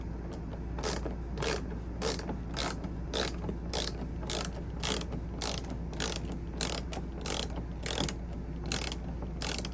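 Screws are driven in while a silencer is installed on an RV air conditioner. A steady series of sharp ratcheting clicks repeats about twice per second over a low, constant hum, with no talk.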